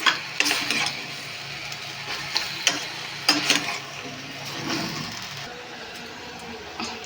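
Broad beans (chikkudu kaya) frying in a pan with salt, a steady close sizzle broken by several sharp scraping stirs of a spatula against the pan.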